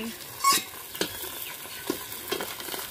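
Fish frying over low heat on a clay stove, a soft sizzle broken by several sharp scraping stir strokes close by, no voices.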